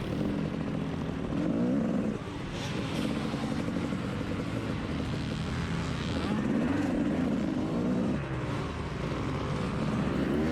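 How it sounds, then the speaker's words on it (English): Motocross bikes roar past on a dirt race track at Woodland Race park, a continuous loud engine drone that swells and fades as riders go by, with faint crowd noise in the background. "these big bikes come by roaring with their motors"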